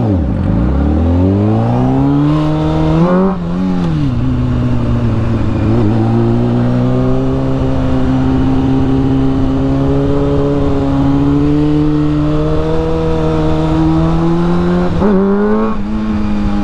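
A big motorcycle of 600 to 1000 cc class is heard while riding, its engine revving up through gears with rising, sweeping pitch, then holding a strong steady drone before another shift near the end, close and loud.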